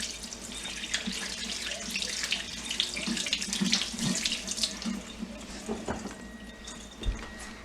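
Tap water runs steadily into a sink while hands are rinsed free of soap, a continuous close splashing hiss with small shifts as hands move under the stream.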